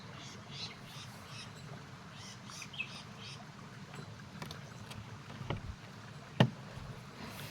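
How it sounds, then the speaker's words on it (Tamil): Faint, scattered bird chirps over a soft outdoor background of running water, with a few small knocks. "அப்புறம் இங்கே பறவை சவுண்டு மட்டும்தான் கேட்குது"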